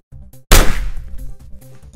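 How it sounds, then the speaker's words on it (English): Gunshot sound effect added to edited footage: one loud, sharp bang that decays quickly into a brief rumbling tail, with low background tones before and after. "And the addition of a gunshot sound effect completes the illusion."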